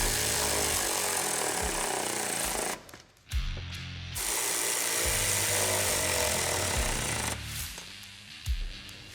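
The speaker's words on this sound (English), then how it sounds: "Now we're going to fully tighten our T40s." A power tool drives T40 Torx bolts into a rear vented windshield bracket on a Polaris RZR Pro R, with repeated whirring bursts broken by a short pause, loud and close.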